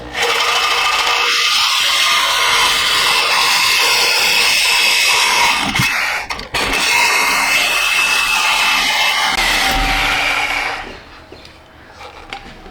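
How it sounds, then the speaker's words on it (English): A brand-new Diablo carbide saw blade cuts through the exhaust pipe of a C5 Corvette fitted with a Borla exhaust, giving a loud, continuous, harsh grinding whine for about ten seconds that then cuts out, leaving quieter background noise. "let's chop it off. Brand new El Diablo. She's carbide."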